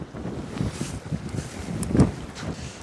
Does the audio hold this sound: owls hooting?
no